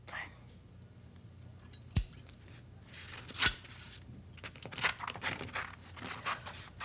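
Two crisp scissor snips, one near two seconds and another near three and a half, then a run of softer cutting and rustling sounds as paper or card is cut by hand. No one speaks.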